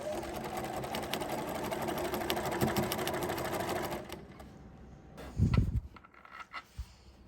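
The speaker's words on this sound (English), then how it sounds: "I have finished quilting in the ditch." A sewing machine stitches in the ditch along the seams of a baby quilt, running steadily and close for about four seconds before stopping, followed by a few handling knocks and clicks.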